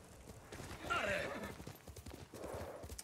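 Horse hooves clip-clop in steady, rapid rhythm in the video game Ghost of Tsushima, close and fairly loud, with a brief swell of other game sound partway through.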